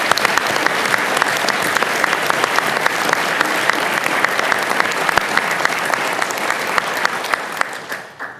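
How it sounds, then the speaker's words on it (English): A dinner audience gives a hearty round of applause, many hands clapping close and loud with crisp individual claps, sustained for several seconds before tapering off at the end. "Let's give them a round of applause."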